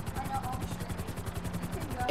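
A helicopter in GTA drones with a rapid, steady rotor chop throughout, fairly close and continuous, with a voice talking over it.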